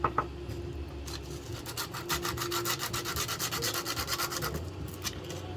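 An accessory is rubbed back and forth against a flat surface to abrade it, giving a quiet, rhythmic scraping with a steady stroke pattern, close up and alone.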